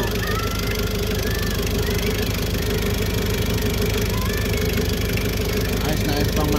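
A 2019 L3FB vehicle engine idles close by with a constant low rumble and faint knocking, running evenly throughout without any revving.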